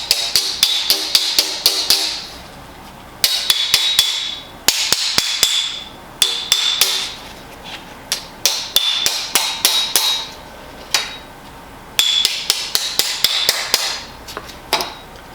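A hammer taps a steel car floor pan into shape in bursts of rapid light metallic strikes, each run of taps followed by a brief pause, close and loud with no talk.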